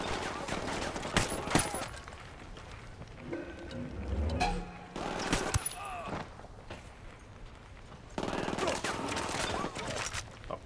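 Gunfire in the video game Ghost Recon Wildlands sounds in several loud bursts across the stretch, mixed with game noise and heard under people talking.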